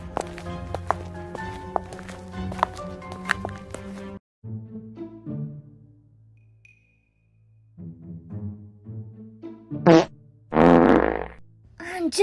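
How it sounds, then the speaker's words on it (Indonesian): A loud, rough cartoon fart erupts in Sakura School Simulator near the end, after a stretch of plucky game music, a silent pause and a few soft notes. "Anjir kentut, gila bau banget lu makan bangke ya?"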